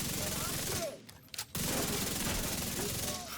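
Continuous automatic gunfire in The Division video game, shooting straight through an enemy's shield, a dense rapid stream of shots that breaks off briefly in the middle and then resumes just as loud.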